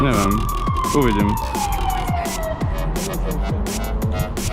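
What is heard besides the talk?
ambulance siren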